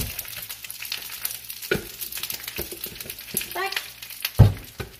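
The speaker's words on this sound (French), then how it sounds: "Ça crépite, on va baisser le feu un peu." Spinach sizzles and crackles in organic coconut oil in a pan, a steady frying hiss with stirring knocks and a louder clatter near the end, while a voice speaks briefly.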